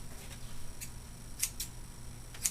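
Scissors snip silk roving and alpaca fleece fibre into short lengths, giving a few sharp, quiet clicks spaced about a second apart over a low room hum.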